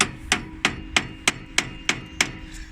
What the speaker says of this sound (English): what I could do, I could hammer it a little bit.